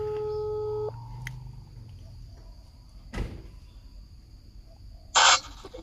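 A phone call ringing tone plays briefly near the start as a steady two-part electronic tone, then quiet room noise with a thud midway and a short loud burst near the end.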